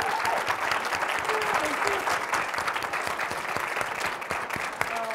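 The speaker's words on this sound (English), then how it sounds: "we should have a big round of applause for Eileen" A celebration audience for AmeriCorps, Senior Corps and Peace Corps applauds, a steady, fairly distant wash of clapping that continues evenly throughout.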